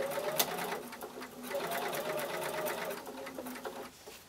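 A sewing machine stitching a seam in felt, a close, steady rapid mechanical whir with brief pauses and faint voice in the background.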